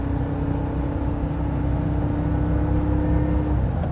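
A 1971 Porsche 911 E Targa's street engine idles steadily and up close, with a constant low rumble and a droning hum that holds even throughout, and no voices.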